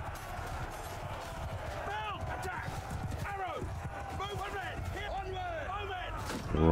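Horse hooves clip-clop during a Mount & Blade II Bannerlord battle with the Eagle Rising Roman mod, steady and mid-distance under dense battle noise, shouting voices and calls throughout.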